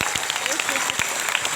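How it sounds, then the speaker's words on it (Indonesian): Audience applause at an Isra Mi'raj commemoration gathering in an Indonesian Islamic boarding school, a steady wash of clapping at moderate distance with a few sharper individual claps standing out. "Tepuk tangan buat kita semua."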